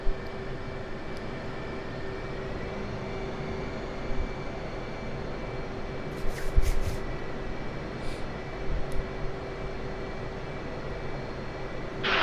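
An aircraft taxis on an airport taxiway, its engine giving a steady, droning hum with a constant tone throughout, a few faint clicks and knocks on top, and no voices.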